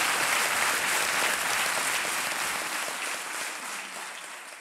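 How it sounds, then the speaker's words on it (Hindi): Studio audience at a Hindi TV quiz show applauds a contestant who has just won a prize cheque, a loud dense burst of clapping that gradually thins and fades toward the end. "जोरदार तालियां बज जाए इनके लिए"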